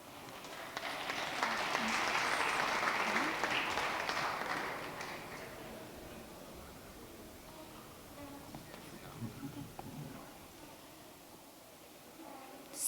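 Conference audience at DevOpsDays Ohio 2015 applauding to welcome a speaker, a full burst of clapping that swells for a few seconds, then fades to scattered claps and room murmur.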